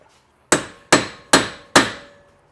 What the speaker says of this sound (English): I hit it multiple times and it's not popping out all the way.